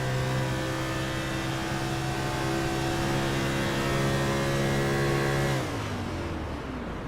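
A stock car engine in the eNASCAR iRacing Series at Pocono, droning loud and steady at high revs from onboard, then dropping in pitch and easing off as the driver coasts with the clutch in.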